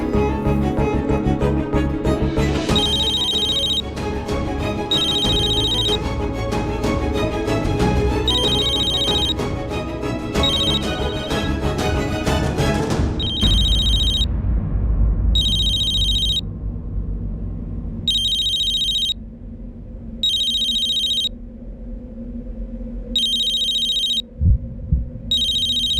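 A phone ringtone repeats in regular bursts of bright electronic beeps, loud and close, first over a swelling music bed and then ringing almost alone after the music cuts out.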